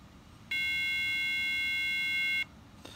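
A single steady electronic startup beep from a 2010 Mac Pro, loud and close, holding for about two seconds before cutting off, with faint room hum around it.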